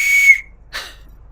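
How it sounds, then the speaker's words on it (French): A person whistles at night in a Kenyan tent camp to call a Maasai escort: one loud, clear high whistle, then a short breathy second blast, close by, against near silence. "je vais siffler et notre escorte Maasai va venir nous chercher"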